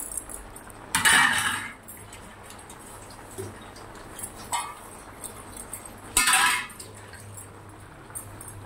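Spices and sugar stir-fried in a pan with a spoon, a few sharp metallic scrapes and clinks of spoon on pan between quieter gaps, close and fairly clear.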